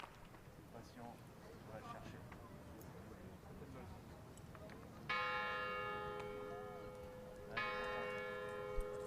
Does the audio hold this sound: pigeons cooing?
no